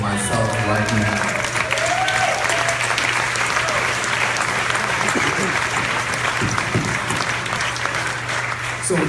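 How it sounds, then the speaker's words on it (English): Audience applause at an NYC Black Pride gathering, a dense, sustained burst of clapping from a full room that holds steady throughout with a low hum beneath it. "I want to applaud all those people myself right now."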